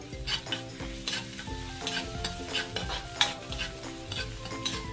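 Garlic frying and being stirred in a pan while making rabbit adobo: steady sizzle with repeated scraping stir strokes at close range, under background music, no talk.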